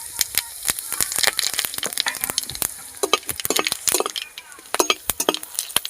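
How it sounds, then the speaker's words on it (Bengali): Whole cumin seeds, bay leaf and dried red chillies hit hot oil in a kadai, giving a close, irregular burst of sharp crackles and pops over a low sizzle. "কড়াই তেল দিয়েছি আর গরম হয়ে গেছে, আর আমি এতে জিরে, তেজপাতা"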